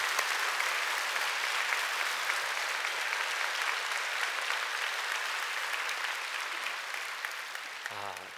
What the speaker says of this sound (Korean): 우리 다시 한번 큰 박수로 격려하고 영광을 돌립시다